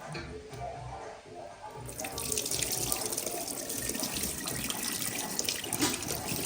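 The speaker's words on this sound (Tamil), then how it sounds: "இப்போ பாருங்கள் 2-3 தடவை நல்லா வாஷ் பண்ணி எடுத்துடணும்." Guava leaves rinsed under a running kitchen tap, a steady close splash of water that grows louder and fuller after the first couple of seconds and continues throughout, with no talking.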